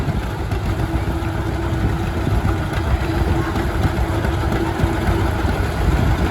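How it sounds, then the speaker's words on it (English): A restored 1952 John Deere A tractor idles loudly in a Swedish festival parade in Stromsburg, its low steady engine thrum continuous over outdoor crowd ambience. "Blake Mathis is on his 1952 John Deere A."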